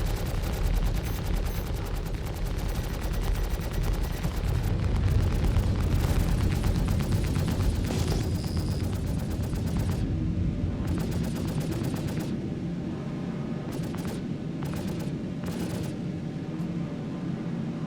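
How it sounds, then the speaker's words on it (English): A spaceship blowing apart in the Star Citizen game, heard as a long, dense roar of crackling blasts and rumbling booms, loud and sustained with rapid bursts of gunfire-like cracks throughout. "That means it's gonna have a big explosion."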